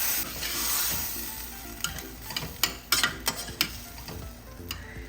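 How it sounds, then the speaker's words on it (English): Pork and beans are stirred in a pot, with a soft bubbling bed and a run of sharp, uneven spoon clicks and taps against the pot's sides, close and with no talk. "I'm going to give it a stir."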